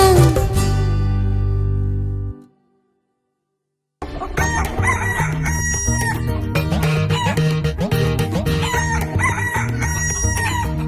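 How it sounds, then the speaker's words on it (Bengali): A single loud rooster crow rings out close by, followed by a brief silence before lively music begins. "সূর্য উঠলে বাড়ির লোকেদের ডেকে তোলে মোরগ, আমাদের ভোলা মোরগ"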